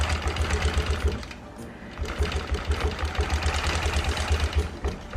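Longarm quilting machine stitching a T-shirt quilt, its needle drive running in a rapid, steady low thrum with a mechanical rattle, briefly pausing near two seconds before resuming at the same pace.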